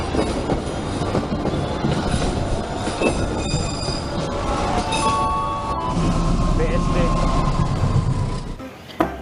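A CC205 diesel locomotive rolls past nearby with a loud continuous rumble, squealing wheels and rhythmic clickety-clack over the rails.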